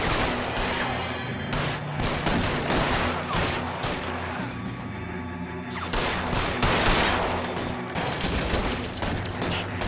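Rapid bursts of gunfire in an L.A. Noire shootout with mobsters, dense volleys of shots and crashes running continuously and loudly across the whole stretch, with a voice briefly audible.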